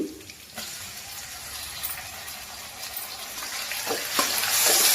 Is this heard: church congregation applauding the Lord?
no